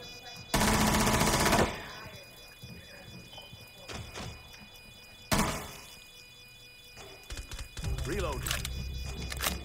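Automatic gunfire in the video game Rainbow Six Siege rips out in two loud, rapid bursts, with scattered thuds and clatter between them and players talking over the action.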